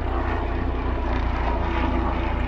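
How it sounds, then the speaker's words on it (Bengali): A steady, throbbing engine drone fills the air, loud and continuous, like a helicopter passing overhead with its rhythmic rotor beat. "উপর দিয়ে হেলিকপ্টার যেতেছে"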